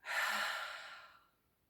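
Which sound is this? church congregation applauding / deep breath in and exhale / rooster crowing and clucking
deep breath in and exhale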